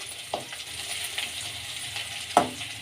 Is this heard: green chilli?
yes